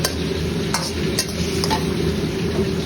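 Chicken pieces being stirred into a butter garlic sauce in a frying pan, a steady close sizzle with soft scraping of the spoon and a few light clinks against the pan throughout.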